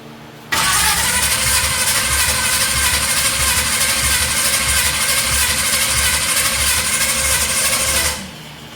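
A car engine that has just been started runs loud and close at a steady, busy idle for several seconds, then abruptly cuts off into silence.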